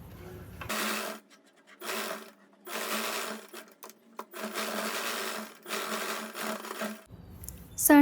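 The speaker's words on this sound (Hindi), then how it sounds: "अब यहाँ सिलाई लगा लेंगे।" A sewing machine stitches a deep neck suit in several steady, whirring runs of about a second each, separated by short pauses. It is close and clear, with a few soft handling clicks between runs.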